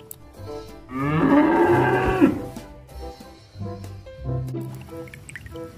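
A cow lows loudly in one long, drawn-out moo that rises and falls, followed by lighter clatter and liquid drips in a farm setting.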